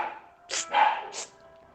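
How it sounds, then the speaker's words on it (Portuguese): Several dogs at a home bark in a few short, sharp bursts, fairly close, between quiet stretches. "eu tenho muito cachorro, tá?"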